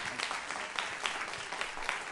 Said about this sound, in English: could we all give them a round of applause again?